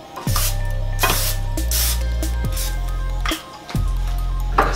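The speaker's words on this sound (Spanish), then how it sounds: "del pan spray, que esto es simplemente para que no se me pegue" Cooking pan spray misted onto a preheated grill pan before a beef chop is added, several sharp hissing bursts of about a second each, close and loud, separated by short pauses over a low steady hum.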